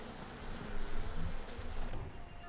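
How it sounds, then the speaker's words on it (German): Bees swarm in an attack in the video game BioShock, and a close, buzzing insect drone swells and fades over a few seconds. "Ich möchte mal wieder meine Bienen nehmen."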